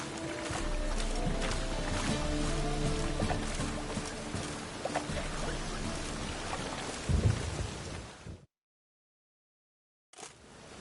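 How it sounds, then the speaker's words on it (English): Steady heavy rain pours through a Witcher 3 storm, with deep rumbling thunder swelling near the end before the sound cuts to silence and briefly returns. "The storm, damn it."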